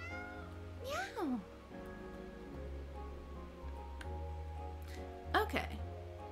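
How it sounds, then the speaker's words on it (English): A cat meows in the Calico cat cafe video game, two distinct rising-falling calls over soft game music, while a person talks in between. "Oh, so the kitty's just in our cafe."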